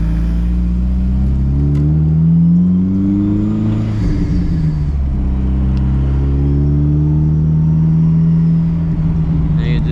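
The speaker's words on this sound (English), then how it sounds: "Hear that turbo spool." A built Nissan S15's turbocharged engine revs and accelerates with a steady harmonic drone, pitch climbing and dipping between gear changes, with a faint rising whine of the turbo spooling on top.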